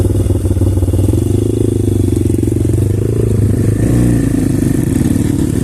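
A Kovi off-road motorcycle, a Start 250 or Pit 150, rides in first gear with a steady, loud, close engine drone and rough clattering that holds throughout and rises slightly in revs near the end.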